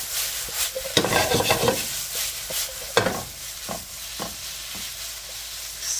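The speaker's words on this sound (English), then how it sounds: "Now we're just gonna stir and toss." Drunken noodles stirred and tossed in a hot pan, with close sizzling and a run of scraping, clattering utensil strokes, louder at first and then easing into a softer frying hiss.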